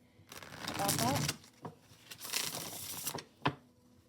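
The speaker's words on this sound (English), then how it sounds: "I'm just going to shuffle one more time" Tarot cards are shuffled in several quick riffling bursts, each a crisp papery flutter separated by short pauses, close and fairly loud.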